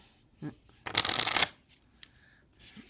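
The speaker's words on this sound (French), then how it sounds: "je vais faire un petit mélange américain pour bien que les cartes s'entrelacent entre elles" A riffle shuffle of playing cards during a simple card magic trick: a short burst of fluttering, interleaving card clicks lasting about half a second, preceded by a light tap and followed by quiet handling.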